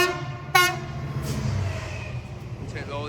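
A freight train on the freight line from Felixstowe North passes through Chelmsford station. It gives a short, loud horn blast, then the rumble of wagons rolls on steadily and close by. A faint voice is heard under the noise.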